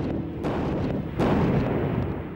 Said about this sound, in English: Cannoneers of 111 Marines were given the order to launch the first artillery barrage into Iraq